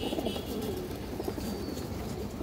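A large Indian high flyer kaldam pigeon coos softly and close by, with low repeated murmuring calls over a faint background hum.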